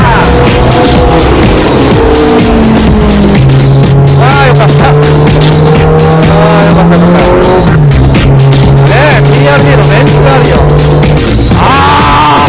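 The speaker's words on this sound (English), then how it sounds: "Tsuchiya's TRD Hachiroku gets the checkered flag, a second victory for Tsuchiya in the Tsukuba N2 race." A TRD Hachiroku race car at full throttle crossing the finish of the Tsukuba N2 race, its loud engine howling close up and stepping through gear changes, with tyre squeal mixed in.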